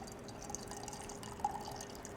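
Coffee pours into a mug for a boozy coffee drink, a soft, steady trickle with a small splash, fairly quiet and close.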